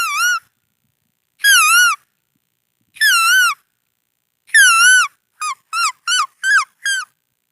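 A man vocally imitates an Asian koel's call: four loud, wavering whistled notes spaced about a second and a half apart, then a fast run of five shorter rising notes, close and alone against silence.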